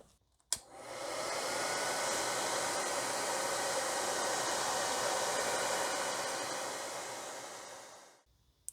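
A hair dryer blows over the fresh finish on a 1/48 scale Eduard P-39L Airacobra model kit. It switches on with a click, holds a steady close whooshing hiss for several seconds, then cuts off.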